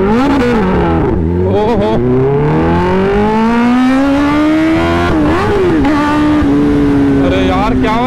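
Kawasaki ZX-10R motorcycle engine revving hard at a launch on a rough road, loud and close, its pitch climbing through the revs, dipping, then rising again, with a brief exclamation over it.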